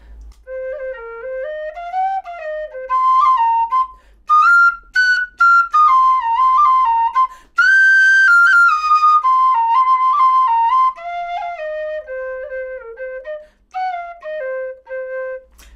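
A tin whistle with Blu Tack on the mouthpiece plays a lilting melody alone, with clear bright notes rising and falling, some held longer and others quick and ornamented.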